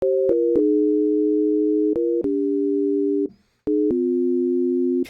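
A steady, buzzy detuned additive synthesizer tone from an M1 with a slightly sour, beating quality, shifting between a few pitches with brief gaps and clicks.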